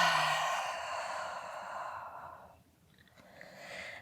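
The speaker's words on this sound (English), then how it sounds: "And then breathing out through the mouth as you round the back." A long, audible exhale through the mouth during a beginner fertility yoga session, breathy and soft, tapering off after about two seconds, followed by a quieter second breath.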